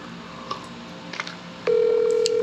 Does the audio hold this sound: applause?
no